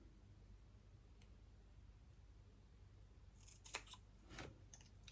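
Scissors snipping into card to cut corners while making a greeting card, a few faint close clicks and crisp cuts clustered near the end after mostly quiet room tone.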